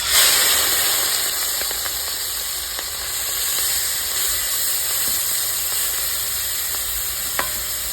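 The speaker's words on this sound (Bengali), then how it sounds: "তেলটা গরম হয়ে গেছে মাছ ভাজার জন্য তেল দিয়ে দেবো মাছগুলো দিয়ে" Prawns frying in hot oil hiss and sizzle steadily up close, with a few faint clicks of a utensil in the pan and no voices.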